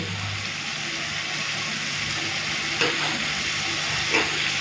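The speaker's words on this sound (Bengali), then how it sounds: "চলুন তো মশলাটা ভালো মতো কষিয়ে নিয়েছি" Masala stir-fried in a pan, spatula scraping steadily over a continuous close sizzle, with a couple of sharper clinks near the end.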